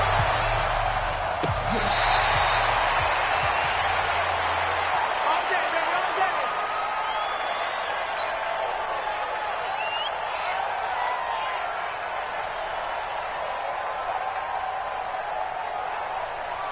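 A stadium crowd at a Dallas Cowboys versus Green Bay Packers football game gives off a broad steady roar, with a few thumps early on and faint whistle-like tones above it.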